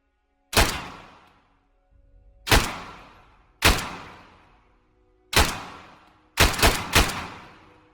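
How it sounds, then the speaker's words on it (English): Pistol gunfire in the game Star Citizen: six sharp, loud shots ring out, three spaced singly, then a quick closing burst of three, each with a short decaying tail. "But anyway, this is the pistol."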